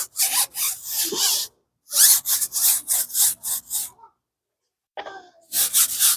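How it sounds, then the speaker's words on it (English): A car tire is scrubbed clean with wheel cleaner: close, loud bursts of brushing and rubbing in rapid strokes, pausing briefly twice before resuming. "So we will first clean the tire off."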